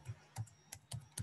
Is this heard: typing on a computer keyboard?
yes